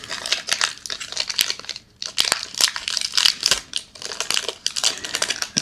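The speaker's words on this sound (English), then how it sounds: "Let's get into this first unwrapping" A foil trading card booster pack wrapper is torn open, giving loud, close crinkling and ripping in quick bursts, with a short pause partway through.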